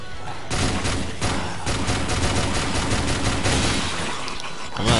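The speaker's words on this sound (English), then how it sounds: "Look how many shots it takes just to kill that guy." Rapid, repeated gunfire from a weapon in Let It Die, a dense fusillade of shots rattling nearly nonstop and loud for the whole stretch, with no talking over it.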